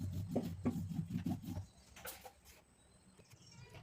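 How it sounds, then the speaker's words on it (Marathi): A rolling pin rolls out flatbread dough in about six quick rhythmic back-and-forth strokes, soft and close, followed by faint rustling and handling noises. "अशाच आपल्याला आणखी 2 पोळ्या लाटून घ्यायच्या आहेत"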